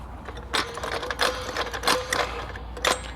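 A broken trolley jack is pumped without resistance, giving a series of light, loose mechanical clacks and squeaks at an irregular rhythm, fairly close and moderately quiet.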